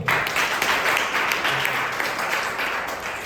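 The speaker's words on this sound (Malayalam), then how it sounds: "നല്ല കൈയടി കൊടുക്കാം." Steady applause from a church kids' and youth fellowship gathering, a dense wash of clapping that holds for a few seconds and fades slightly toward the end.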